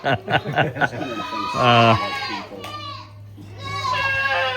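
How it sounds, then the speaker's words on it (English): Several goats bleat loudly and repeatedly at feeding time, their calls overlapping, with children's voices mixed in nearby. "What's going on with the goats, Kent?"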